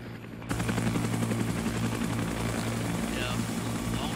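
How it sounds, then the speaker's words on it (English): Helicopter rotor thump and engine drone from Arma 3 S.O.G. Prairie Fire, a steady loud wash that starts abruptly and holds as the aircraft lifts off and flies away, with game noise mixed in. "There goes the crew of the other helicopter there, bugging off."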